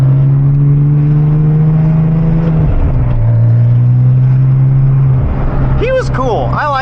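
A tuned Porsche 911 Turbo with bolt-on upgrades running nearby, its engine holding a loud, steady drone that dips and rises in pitch twice, with a voice speaking briefly over it near the end.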